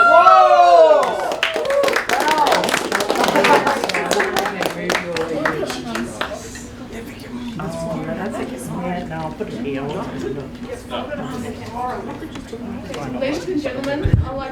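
Wedding guests cheer and clap for the bride and groom as they stand together, a loud burst of whoops and applause up front that thins into crowd chatter and scattered claps with voices throughout.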